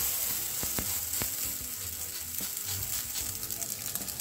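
Flatbread paratha sizzles quietly on a hot tawa, with a steady soft crackle broken by a few sharp utensil clicks, fairly faint and with no one talking.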